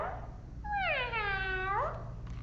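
A human voice imitating a cat gives one long, clear, rising-then-falling meow lasting over a second, close and fairly loud, during a children's guessing game at family story time.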